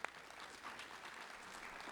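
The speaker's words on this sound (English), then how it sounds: "Give yourselves a round of applause again, guys." Steady applause from an audience at a physical therapist assistant pinning ceremony, a continuous wash of clapping at moderate distance with no pauses, fairly faint overall.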